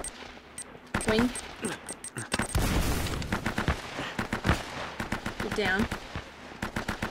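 Shotgun blasts and other gunfire crack loudly in a firefight in Uncharted: Drake's Fortune, coming in sharp bursts amid rapid shots, with voices calling out between them.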